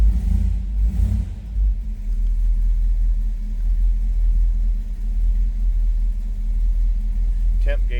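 A 1964 Chevrolet Impala SS hardtop with a 350 V8 runs just after a cold start, a steady low engine rumble close by with slight swells, while someone talks over it.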